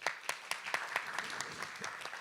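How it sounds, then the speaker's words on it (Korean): Audience applause at a Korean green-growth summit on vehicle-to-grid technology: a steady, moderately distant round of many hands clapping, with no voices. "여러분 다시 한번 큰 박수 부탁드립니다."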